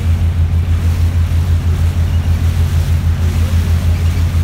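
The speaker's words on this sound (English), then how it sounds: "Maybe you can't because the motor is very loud, of course. It's a very powerful engine." Loud, steady drone of a powerful boat engine on an eagle-watching tour, with a rhythmic low thrum and wind buffeting the microphone throughout, no voices.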